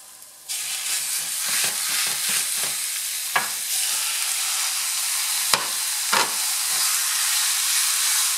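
Minced beef drops into a pan of fried onions and hits the heat with a sudden loud hissing sizzle that carries on steadily, dotted with clacks and scrapes of a utensil stirring the meat.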